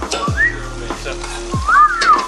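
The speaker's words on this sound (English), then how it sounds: "And then that's what we fry right there." Flattened, smashed pieces sizzle loudly in hot oil, a steady close frying hiss with stirring clatter and a couple of faint whistling tones, no talk.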